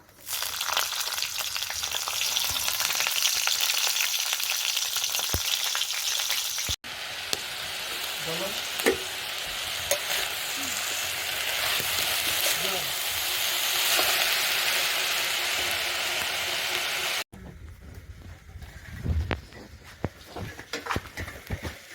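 Spices tempering in hot oil for a Bengali fish curry sizzle loudly and steadily in a pan, a broad frying hiss that continues with a few brief breaks and stirring scrapes.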